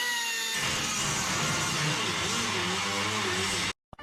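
A power tool cuts out metal pieces to be welded in, a loud continuous grinding whine with wavering pitch that runs steadily and then cuts off abruptly near the end.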